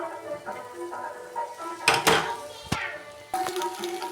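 Pasta tipped into a pan, with clattering metal scrapes, a sharp burst of tumbling pieces and a few knocks of utensil against cookware, close up.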